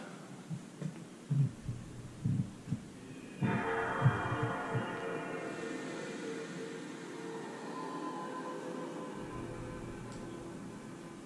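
PlayStation 2 console starting up: a few soft low thumps, then a sudden shimmering synthetic swell with a deep hum beneath that slowly fades into a quiet drone, faint overall.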